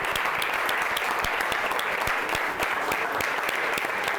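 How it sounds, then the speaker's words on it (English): Steady, dense round of applause at a football team's awards presentation, with many hands clapping continuously at close range and no talk over it. "So first of all, round of applause for them"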